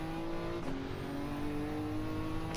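A race car engine in the Daytona GT1 racing game holds a steady droning note, with a brief gear shift and a shifting pitch, heard alone at moderate volume.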